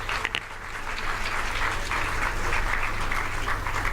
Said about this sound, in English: Let's give another round of applause to the Excellencies